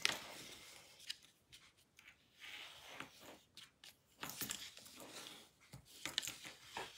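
A bone folder is pressed and drawn along a paper fold while making a folded paper box, giving soft, scratchy rubbing strokes in uneven bursts, faint and close.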